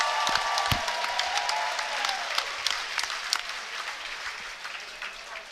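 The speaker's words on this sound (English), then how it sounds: "How about a nice round of applause for these 2 great warriors going the distance?" Crowd applause at a boxing fight night after a three-round bout, a broad wash of clapping with scattered cheers and a brief tone early, slowly thinning toward the end.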